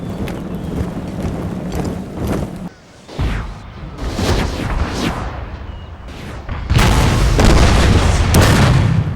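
Cannon blasts and explosions in a Total War battle recreating the 1813 Battle of Leipzig, with repeated deep booms and bursts that rise and fall over a constant rumble of battle and grow denser and louder toward the end.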